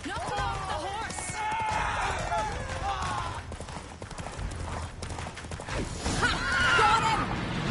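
In The Witcher 3, horses gallop in a fast, continuous clip-clop of hooves while several high neighs and whinnies ring out during a mounted chase, with voices shouting over the action.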